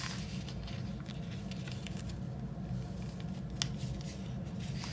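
Scissors snip through a single sticker on a planner dashboard page, quick soft cuts with faint paper rustle against a steady low room hum, close to the listener.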